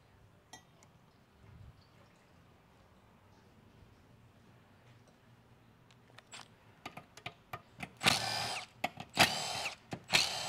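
A 3/8 inch power tool on transmission bolts, quiet shop ambience and faint clinks at first, then a series of short, loud bursts of ratcheting and whirring close by toward the end.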